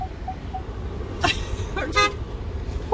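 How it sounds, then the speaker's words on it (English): A car horn toots twice in quick succession from a nearby vehicle in a parking situation, over a low rumble of idling engine and traffic. "What is that person who's honking at you?"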